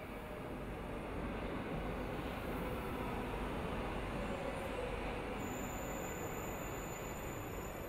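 A yellow subway train runs steadily at close range, a loud, continuous broadband rumble and rush of wheels on rails with a faint high whine creeping in toward the end.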